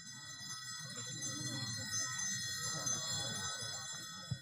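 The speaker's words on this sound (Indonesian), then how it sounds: "lantunan merdu suara genta" A Balinese genta, a handheld temple bell, rings at Pura Melanting in the Sangeh forest, giving sustained faint metallic tones over a low ambient rumble.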